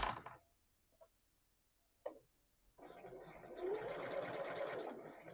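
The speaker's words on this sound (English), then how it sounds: "Sew down the rest of the side seam, making sure it aligns with the 1 cm or 3/8 of an inch seam allowance." A sewing machine stitches the side seam of boxer shorts. A few soft isolated clicks come first, then the motor starts into a steady, close, continuous whirring run.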